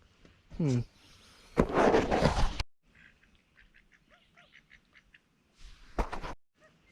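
A duck quacks nearby in an outdoor riverside setting: a short honking call, a couple of louder bursts, then soft scattered chirps and calls in quiet air.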